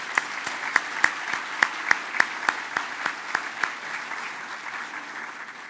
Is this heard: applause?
yes